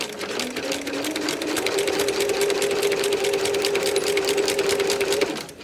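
Close, loud sewing machine stitching a foundation paper pieced tulip potholder, a steady rapid whirring hum running unbroken for about five seconds before stopping.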